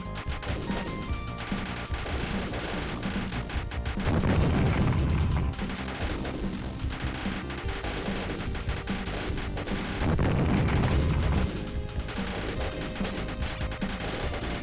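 Arcade shoot-'em-up Raiden II: a dense, continuous barrage of game gunfire and explosions from tanks, with two heavier booming bursts, loud and steady with no talk.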